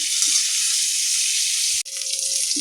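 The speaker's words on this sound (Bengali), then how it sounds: "আঁচটাকে মিডিয়ামে দিয়ে আমি বেগুনগুলো একটু ভেজে নেব।" Eggplant pieces frying with turmeric in oil over medium heat give a continuous bright, hissing sizzle, close and even, with one brief dip partway through.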